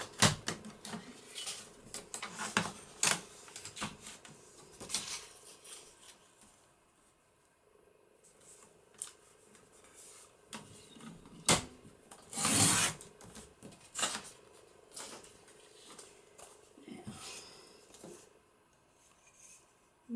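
Paper is cut to size for a papercraft card with a flip-out embellishment, a run of crisp trimmer or scissor snips and rasping slides that come in bursts, close and moderately loud, with no talking.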